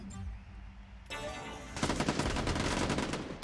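Rapid bursts of gunfire in a Quake Live 1v1 deathmatch, a few sharp shots followed by a dense, sustained stream of loud firing.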